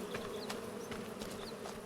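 Bees in the Farming Simulator 25 video game, a continuous close buzzing drone with small passing whines, steady and alone without speech.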